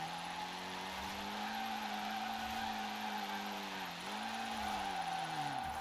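Triumph TR7 drifting in Forza Horizon 4, its tires screeching in a long continuous squeal with a steady engine drone beneath, the pitch dipping and recovering briefly near the end.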